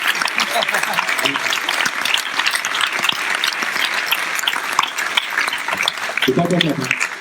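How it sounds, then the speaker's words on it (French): An audience at a live comedy show claps for Laurence, a full, continuous round of applause while a voice talks over it near the end. "On peut applaudir Laurence, s'il te plaît"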